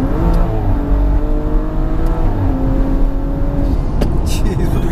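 A 560 bhp BMW M135i accelerates hard through several gears, its engine loud and close, the pitch climbing, dropping at each shift and climbing again, with a voice over the roar.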